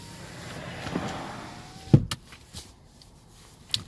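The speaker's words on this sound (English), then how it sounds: "My windows, they also roll up and down." The power window on a 2012 Chrysler 200 hums steadily for about two seconds before stopping with a thunk, followed by a few faint clicks and knocks in a quiet car interior.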